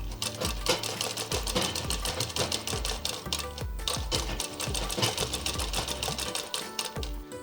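Sewing machine stitching the sleeve onto a girl's frock, a loud, fast, continuous mechanical chatter of needle strokes close up, running steadily throughout with no voices.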